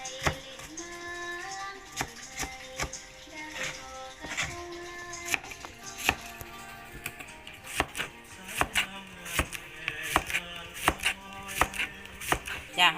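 A knife chops banana stem on a board for a Northern Thai curry, with quick, uneven bursts of sharp, close strikes over faint background music.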